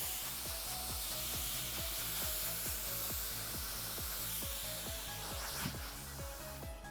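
A powerful hair blower in a hair salon, stronger than a hairdryer, roars with a steady, loud rush of air, while a rhythmic thumping beat pulses underneath throughout.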